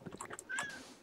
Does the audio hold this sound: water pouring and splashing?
no